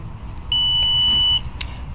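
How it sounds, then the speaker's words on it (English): A single loud, steady electronic beep from a tire pressure monitor lasting nearly a second, followed by a brief fainter chirp, over a low background hum. "press and hold the mode button until you hear a beep"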